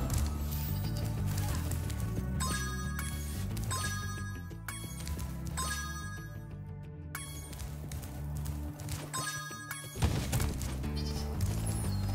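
Sheep bleats in the Spyro Reignited Trilogy video game, a few short bleats over a loud, busy game music bed with repeated tonal hits.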